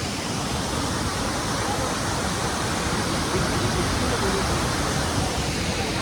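A small, shallow waterfall near Bangalore gives a steady, even broadband rush of falling water that fills the whole clip without pause.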